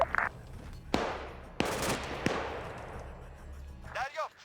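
Gunfire in a video game, three or four sharp single shots spaced about a second apart with echoing tails over a low rumbling background, followed by a brief game sound at the end.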